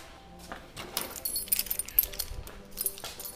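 Keys jangling and clinking in short irregular bursts as someone searches for them near a car, fairly close and moderately loud, with faint background noise.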